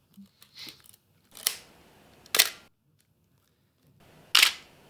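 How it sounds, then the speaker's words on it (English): A Nikon D700 camera shutter fires three separate times, each a sharp, mechanical click close to the mic, with quiet gaps between them. "the D700 has a shutter sound that reminded me of a vintage film camera"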